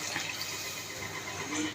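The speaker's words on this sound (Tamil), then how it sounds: "தண்ணி வந்து 2 டம்ளர் ஊற்றிடுறோம்." Water pours in a steady, even splashing stream into a pot, ending in a sharp clunk.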